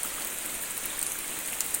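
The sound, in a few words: rain falling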